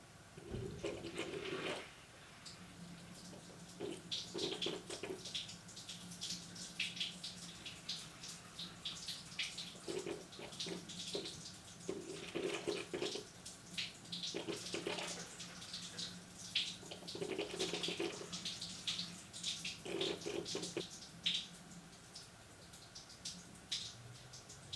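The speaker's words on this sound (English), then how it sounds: "we have water running consistently from the front drain" Water runs steadily from a front drain during a leak test on a Volvo V50, a soft splashing stream that keeps going throughout, with brief louder bursts of gushing at intervals.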